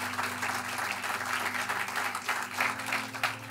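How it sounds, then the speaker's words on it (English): An audience applauds a small team after a speech at an event, dense steady clapping from a crowd, moderately loud and continuous throughout. "So please give them a round of applause"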